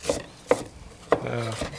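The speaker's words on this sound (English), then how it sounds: "he's chopping the onions up, small dice" A knife chops onions into small dice on a board with three sharp, close knocks about half a second apart. A short rasping scrape follows the last knock.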